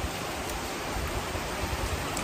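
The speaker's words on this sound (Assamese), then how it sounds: "বৰষুণৰ বতৰ মানে" Rain falls in a dense, steady wash of noise, close and continuous, with no voices over it.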